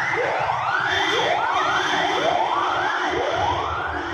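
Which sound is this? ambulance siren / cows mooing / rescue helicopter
ambulance siren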